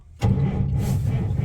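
A truck engine in the cold cranks and catches abruptly, then runs loud and rough, close by, with no voices over it.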